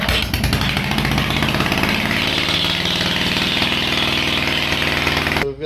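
A salvaged Exmark mower engine, once locked up, runs loud and close with a rough, steady mid-pitched roar, then cuts off abruptly at the end.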